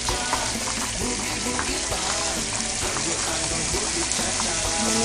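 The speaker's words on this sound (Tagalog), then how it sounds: "ipiprito, ganyan. Hanggang maging crispy, naninipis kasi itong pagkakahiwa." Thinly sliced Italian bacon sizzles steadily in a hot pan as it fries toward crispness, a dense, continuous crackle with no talk over it.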